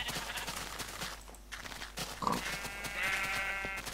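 A sheep bleats in Minecraft, one short bleat midway through, with faint footsteps and other game sounds around it.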